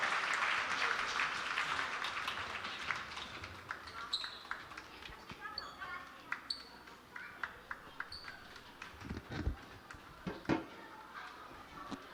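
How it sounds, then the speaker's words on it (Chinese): A church congregation applauds children during a Sunday service, the clapping strongest at first and then thinning into scattered, sharper claps and knocks as it fades. "搁一遍热烈的掌声来拍拍啊"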